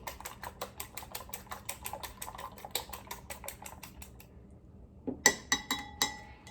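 Eggs whisked in a bowl until fluffy, a steady fast run of light clicking taps that pauses briefly and then resumes with a few sharper clinks.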